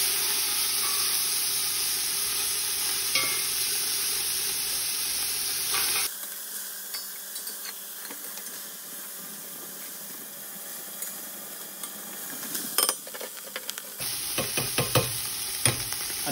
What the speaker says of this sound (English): leave it for about 30 seconds without stirring it. This will allow colour to develop on the bottom of the mince.